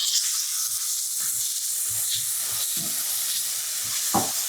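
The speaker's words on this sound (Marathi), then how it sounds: "आता हा बारीक चिरलेला कांदा तेलामध्ये. तेलही गरम झालं." Finely chopped onion frying in hot oil in a home kitchen, a continuous close sizzle and hiss with a few soft stirring knocks underneath, no voices.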